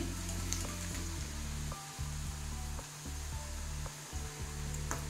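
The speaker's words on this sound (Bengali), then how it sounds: "খুব ভালো করে ভেজে নিয়েছি, দেখতে পাচ্ছেন" Bitter gourd pieces frying in hot oil, a steady close sizzle with a low rumble and several short stir or lift clatters, no talk.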